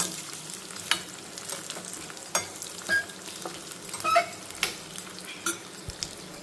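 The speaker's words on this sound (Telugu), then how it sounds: "కొబ్బరి ముక్కలు కూడా వేగుతున్నాయి" Coconut pieces fry in a pan for a tamarind-based buttermilk-style curry, giving a steady close sizzle broken by scraping stirs of a spoon against the pan, with no talking.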